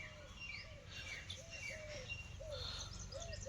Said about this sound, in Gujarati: અલગ જાતની છે ચકલી